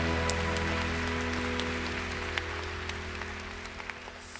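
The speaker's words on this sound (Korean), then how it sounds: "하나님께 감사의 박수 올려드리겠습니다." A church congregation applauds at a Friday worship service, dense steady clapping like rain over a sustained organ or keyboard drone, gradually easing off.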